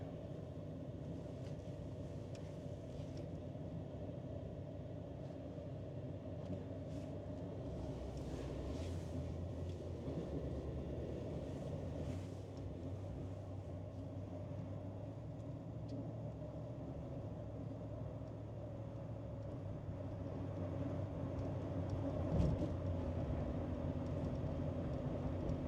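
A 1971 Lincoln Continental Mark III with a 460 V8 and C6 transmission driving along an uncleared park road, its engine and road noise forming a steady, low, rumbling drone that swells slightly near the end.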